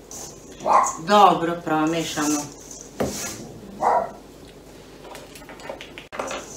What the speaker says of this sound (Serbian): Ako čujete u pozadini, to kod mene kjere laju